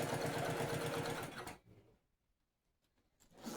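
A sewing machine topstitches near a zipper edge with a fast, close mechanical whir, stops abruptly, sits quiet for over a second, then starts up again briefly.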